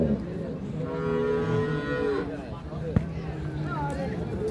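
A Friesian cow on a farm, with a bull calf beside her, gives one long, close moo, and people talk around it.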